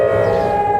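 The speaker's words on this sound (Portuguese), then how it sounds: "A sirenezinha do calor extremo." A steady, loud siren presented as an extreme-heat warning, holding one unbroken wailing tone with strong harmonics throughout the short moment, with no voices over it.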